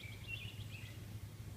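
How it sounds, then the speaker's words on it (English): Birds chirp faintly in a quiet backyard garden, with a few short high calls over a low steady hum and no voices. "Listen to those birds singing"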